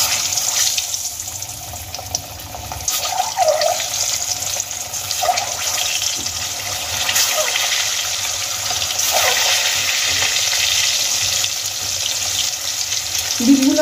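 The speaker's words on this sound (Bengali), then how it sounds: "এবার আমি ডিমগুলোকে তেলের মধ্যে ছেড়ে দেব।" Scored boiled eggs frying in hot oil, a continuous hissing, bubbling sizzle held at an even level for the whole stretch, with a few faint clinks.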